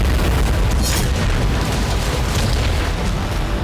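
Powerful TNT blast from a bomb hidden in an electric scooter, a dense, loud booming roar with rumbling debris that fills the whole stretch without pause.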